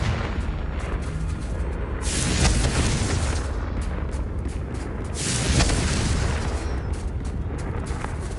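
The Confringo fire-blast spell in the video game Hogwarts Legacy produces loud, continuous booming explosions, with rumbling bursts that swell around the middle and again toward the end.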